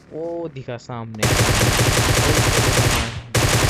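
Rapid automatic gunfire from the video game BGMI erupts in a loud, sustained burst after someone speaks briefly, the shots rattling on steadily with a short pause before resuming.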